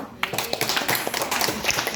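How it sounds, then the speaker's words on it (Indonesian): An audience at a wound care lecture claps hands, a loose, uneven patter of individual claps from a modest group, fairly close, with some voices mixed in. "Tepuk tangan dong."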